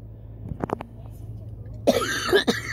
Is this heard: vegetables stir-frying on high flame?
no